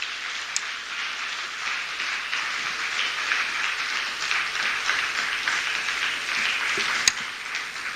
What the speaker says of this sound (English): another round of applause for the Honorable Minister of Education